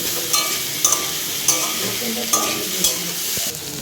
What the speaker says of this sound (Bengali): আলু পেঁয়াজটা ভেজে নিই